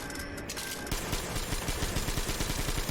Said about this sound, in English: very slow firing minigun